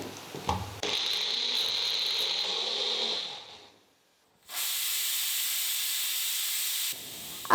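A pressure cooker with chicken inside lets out steam in two strong, steady hissing bursts of about three seconds each, separated by a brief pause, loud and close.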